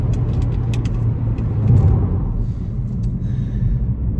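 Ford Focus ST Mk4 in sport mode accelerating hard in third gear, a loud deep engine rumble heard from inside the car that swells as it pulls, with faint mechanical ticks over the top.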